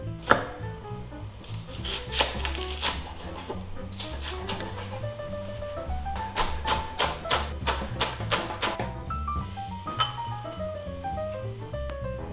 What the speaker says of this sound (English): Then again, chop.